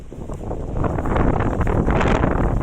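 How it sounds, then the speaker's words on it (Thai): Strong, steady wind buffets the microphone on open land, a loud continuous roar that swells slightly midway and holds through to the end, with no voices. "บรรยากาศดีนะครับลมพัด ตลอดเลยนะครับ"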